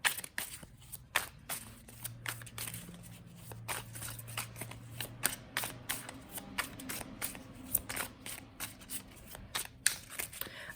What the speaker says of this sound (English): We're almost done shuffling here.